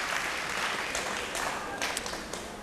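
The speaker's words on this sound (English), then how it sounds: "Round of applause, please, for Trends Beauty International and Bargain Box." Studio audience at a televised singing competition applauding sponsors, a continuous wash of clapping heard at moderate distance with a few sharper individual claps near the end.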